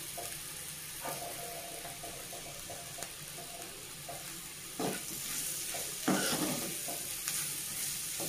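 Potato fry with chili powder sizzling in a pan, a steady close frying hiss with scattered stirring clatters and a few louder bursts toward the end, no voices.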